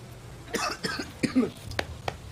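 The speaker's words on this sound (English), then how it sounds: "I'm so sorry, I'm still coughing." Several short, close coughs come in quick bursts, with a couple more spaced out afterward.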